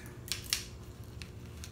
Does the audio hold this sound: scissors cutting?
yes